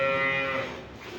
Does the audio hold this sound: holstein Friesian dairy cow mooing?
yes